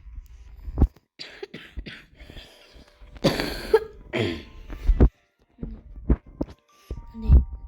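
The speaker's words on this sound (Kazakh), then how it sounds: "мен енді ауырып жүргесін кішкене енді жөтеліп жүрмін" A sick person coughs several times close to the microphone in short, separate bursts, with quiet gaps and a little murmuring between them.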